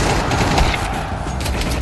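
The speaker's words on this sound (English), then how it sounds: "Counter-Strike is known for its visceral and satisfying gunplay." Gunfire in the video game Counter-Strike 2 comes as a dense burst of rapid, loud shots blending into a continuous crackling fusillade with booming low end.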